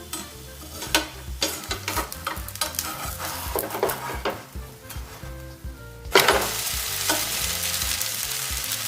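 Handvo, an instant green savory cake of batter packed with vegetables, sizzles steadily in a pan amid frequent scraping and clinking as it is flipped, the frying hiss swelling louder after the turn.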